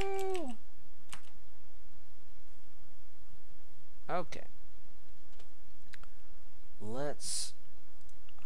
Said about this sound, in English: hide that so you don't see me typing in my password